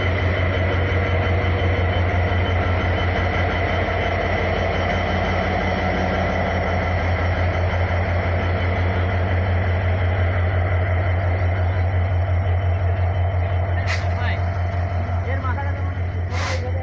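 Locomotive 6601 hauling the Titumir Express rumbles with a steady, loud low diesel drone at platform 1 of Nilphamari station. Two brief, sharp high squeals come near the end, and voices murmur faintly underneath.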